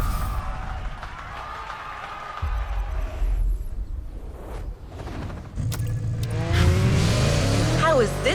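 The Genti Automobile Accolone sports car from The Crew Motorfest racing game. Its engine revs and rises in pitch over a busy mix of music and effects, growing louder toward the end.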